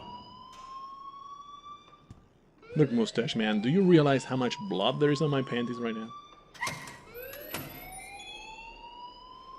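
Wailing, rising electronic school alarm tones in the video game Life is Strange repeat under someone speaking loudly and angrily, then continue alone after she stops.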